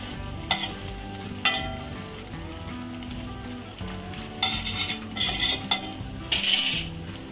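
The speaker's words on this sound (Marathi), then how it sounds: "पटापट याला असं रोल करून घ्यायचं गॅस एकदम कमी ठेवायचा आहे" A Japanese rolled omelet (tamagoyaki) sizzles softly in a pan over low heat while it is rolled, with a few sharp metal scrapes and clinks of a utensil against the pan.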